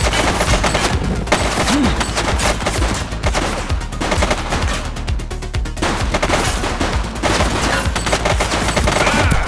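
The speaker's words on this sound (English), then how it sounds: "He's shooting!" Sustained rapid gunfire during a police shootout in The Precinct, loud automatic bursts and overlapping shots with heavy booming low end, continuous for nearly ten seconds without a voice.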